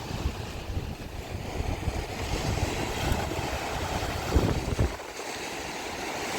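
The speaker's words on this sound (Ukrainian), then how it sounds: "Але вітер." Steady wind gusting and buffeting the microphone on the Turkish seaside, with a low rumbling roar and faint surf beneath, continuous throughout.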